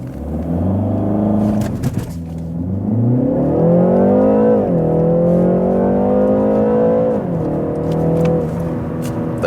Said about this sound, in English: Let's start with some acceleration.